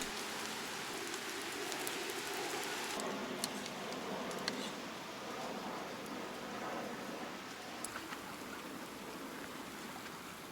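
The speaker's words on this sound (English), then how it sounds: "Now we have no choice but ride in the rain." Steady rain at a seaside park campsite in Chiba, Japan, a dense even hiss with scattered drops ticking on nearby surfaces, constant throughout and with no one speaking.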